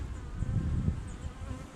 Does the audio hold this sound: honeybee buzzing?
yes